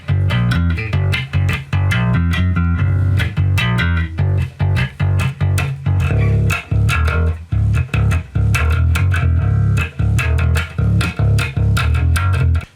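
A heavily distorted electric guitar plays chugging, bass-heavy chords through a Traynor YGA-1A practice amp with the bass knob turned up, loud and continuous with short choppy breaks.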